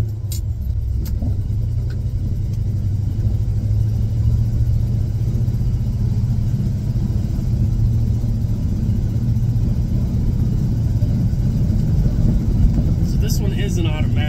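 A Ford F-series pickup truck with a 351 engine drives down a road, a steady close cabin rumble of engine and tyres that holds for the whole stretch with faint rattles, and a person talks over it.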